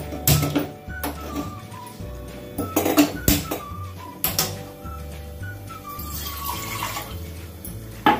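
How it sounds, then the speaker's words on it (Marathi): Water pours into a pot in splashing bursts, with small metallic knocks and clatter of cookware, as it is set to heat for making mango sheera. "हे पाणी आपल्याला गरम करून घ्यायचे"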